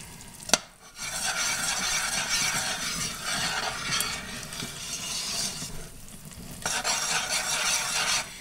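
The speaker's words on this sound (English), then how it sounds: "If you don't stir it, the peanuts start to burn to the bottom of the pot" A spoon stirs peanuts cooking in sugar syrup in a pot for peanut brittle, a steady close scraping and sizzling that runs almost continuously, with a sharp clink near the start and a brief lull before the end.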